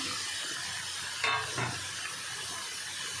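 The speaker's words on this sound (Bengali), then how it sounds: "এগুলো একটু ভেজে নিই, সব সবজি দিয়ে দেবো।" Vegetables, including yard-long beans and carrots, fry in a pan for sambar dal, giving a steady soft sizzle with a short stirring scrape partway through.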